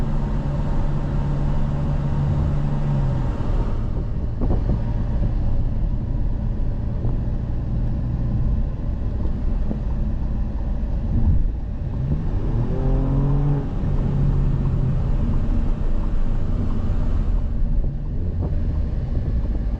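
A 2023 Alfa Romeo Giulia Quadrifoglio engine pulls hard under acceleration, its tone climbing through gear changes with wind rush behind, loud and continuous from inside the car.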